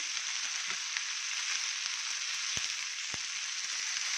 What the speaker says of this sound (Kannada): ಪಾಲಕ್ ಸೊಪ್ಪು ಹಾಕಿದ್ದೀನಿ ಇದು ಕೂಡ ಫ್ರೈ ಆಗಲಿ ಈ ಟೊಮೊಟೊ ಈರುಳ್ಳಿ ಬೆಳ್ಳುಳ್ಳಿ ಜೊತೆ ಇದು ಕೂಡ ಫ್ರೈ ಆಗಲಿ